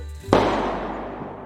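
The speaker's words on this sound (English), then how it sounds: "Then, a gunshot shatters the quiet." A single sharp gunshot cracks in a quiet frontier gold rush town, a sudden loud report followed by a long echoing decay that fades over the next second.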